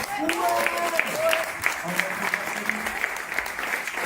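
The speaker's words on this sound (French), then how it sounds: "Merci à Yacine Nemra, on peut l'applaudir." Studio audience applause during a French-language Swiss radio sports show, a steady patter of clapping from a modest crowd with a few voices mixed in.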